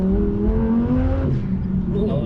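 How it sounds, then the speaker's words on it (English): Audi R8 V10 engine with a burble exhaust tune, heard from inside the car as a steady droning rev that rises slightly in pitch, then eases off into low rumbling crackle. "Got that BMW burble tune in there, baby. The V10 is really kick-ass."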